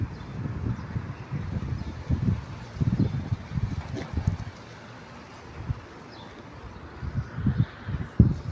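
An outdoor breeze buffets in low, rumbling gusts that rise and fall unevenly, close to the listener, with no one talking.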